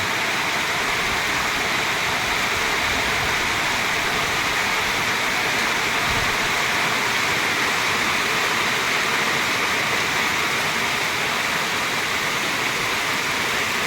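Heavy rain pouring steadily and densely, a constant loud hiss with no letup and no voices.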